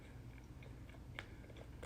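Gum being chewed close up, with soft, irregular smacking and moist mouth clicks repeating over a low steady background hum, and no voice.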